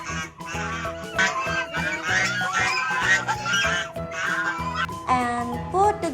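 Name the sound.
toy goose honking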